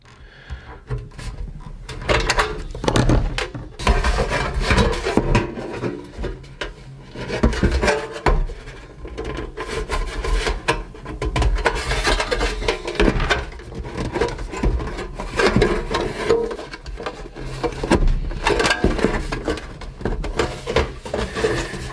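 Metal snips cut a taper into a sheet-metal heat register duct, giving continuous close rasping, scraping and crinkling with irregular bursts of clanking metal, no talk.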